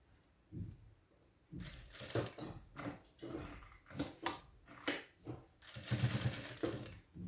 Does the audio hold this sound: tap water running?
no